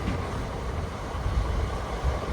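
Interior rumble of a crowded Kakinada to Mysore special train running between Adoni and Guntakal Junction, a loud low steady roar with slight swells, no voices.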